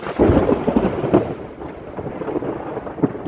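An intense storm over a garden with pepper plants sends thunder rolling in close, loud bursts over a constant rain hiss, with no voices.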